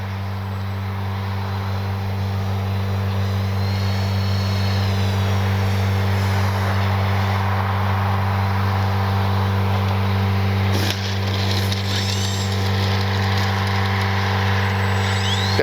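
An RC OV-10 Bronco model plane lands on grass with a steady, close propeller-engine drone throughout and a brief bump or jolt partway through.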